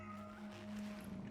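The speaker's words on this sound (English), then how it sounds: "Is that a cat?" A cat meows in the video game Cronos: The New Dawn, a sustained tonal call over a steady low drone, fairly close and moderately loud for just over a second.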